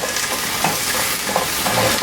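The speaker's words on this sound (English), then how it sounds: "Okay, you hear the sizzle." Broccoli stems sizzle and crackle in a hot stir-fry pan while being stirred, a dense continuous frying hiss with small bursts of popping, close and fairly loud.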